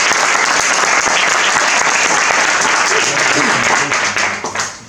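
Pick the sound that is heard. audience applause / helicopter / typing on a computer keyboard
audience applause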